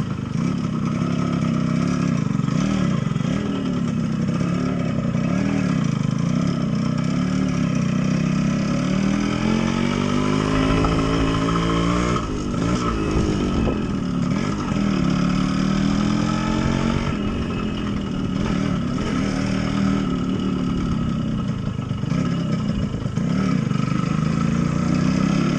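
A Yamaha RX 100 two-stroke motorcycle engine heard while riding, a loud steady buzzing drone with rising and falling revs through gear changes, continuous throughout with no talk.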